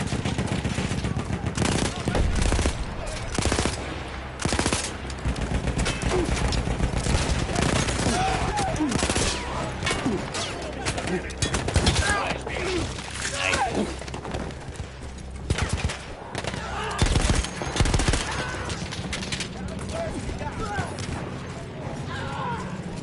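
Machine gun fire in the video game Battlefield 1, a weapon taken over from Austro-Hungarian troops, rattles in loud sustained bursts through nearly the whole stretch amid dense battlefield noise and brief pauses.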